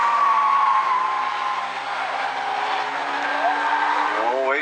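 Stinger 8 race cars in an A-Main race at South Sound Speedway, engines whining loudly with shifting, rising pitch as they pass, and speech running alongside.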